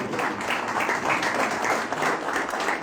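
An audience applauds steadily, a dense patter of many hands clapping in a room, fairly loud and continuous throughout.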